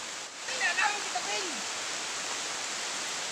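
Rain falling outdoors in a bamboo area, a steady broad hiss of rainfall with a voice speaking briefly over it near the start.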